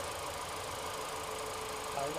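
A repaired Roewe car's engine idles after starting, a steady mid-pitched hum with light knocking vibration, close and even, with a voice talking over it.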